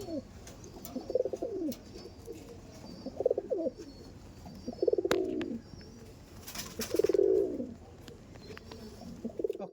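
Andhra pigeons, a male and female pair, coo in repeated soft rolling bursts a few seconds apart, close and fairly quiet against faint background noise.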